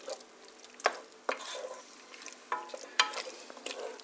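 Liver and offal toasting in oil in a pan while making Magiritsa, giving a low steady sizzle with a few sharp stirring clatters and scrapes near the start and toward the end, close and with no talk.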